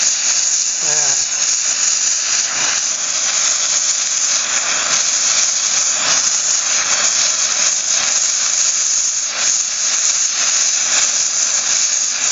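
Multiplaz plasma welding torch hissing steadily while welding, a loud, even, broadband rush close by with faint crackles and small flickers in intensity throughout.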